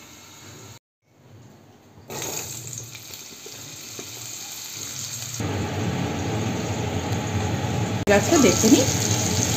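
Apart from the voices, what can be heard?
vegetables frying in oil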